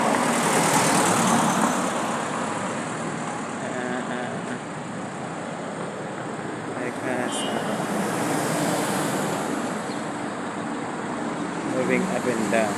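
Cars driving past on a road in the afternoon, a continuous wash of traffic noise swelling and fading as vehicles pass, with a voice speaking over it.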